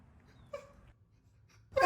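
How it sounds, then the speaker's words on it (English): A small pet gives a sudden, sharp sneeze at close range, a single short burst after near silence, preceded by a faint brief whimper. "You may not be able to tell, but he's gonna sneeze any second now"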